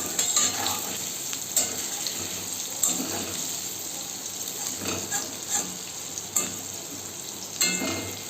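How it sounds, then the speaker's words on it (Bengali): Lentil pakoras, crispy street-cart style, frying in hot oil, a constant dense hiss and crackle with periodic brief bursts every second or so, close by with no speech. "পকোড়াগুলো ভাজা হয়ে গেছে"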